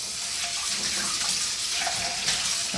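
Tap water runs steadily over a Scrub Daddy sponge being rinsed clean of oil in a sink, a close, continuous hissing rush with no talking.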